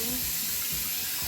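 Water poured from a tap into a pot of rice on a home kitchen counter, a short, close, steady rushing splash with no voices.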